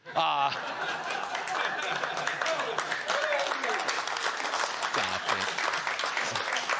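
A comedy audience breaks into applause mixed with chuckles and laughter after a joke, a dense crowd wash of clapping under a voice.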